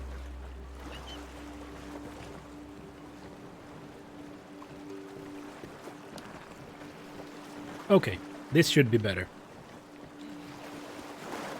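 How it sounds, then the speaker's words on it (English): Ocean waves and wind wash steadily and softly in the raft survival game Flotsam, a continuous low ambience while someone speaks briefly over it. "Soothing ocean, isn't it nice?"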